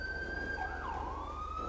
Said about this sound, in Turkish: Arkadaşlar araç olarak da sirenimiz bu şekilde.